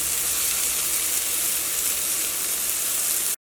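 Grated coconut going into wheat flour upma in a hot pan, a steady close sizzle and hiss of frying that holds evenly throughout, with no voices.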